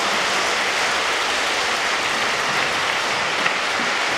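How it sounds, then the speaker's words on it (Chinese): Warm, dense applause from a concert audience after a choir's folk-song performance, a loud continuous roar of many hands clapping that holds steady throughout. "掌声，热烈掌声"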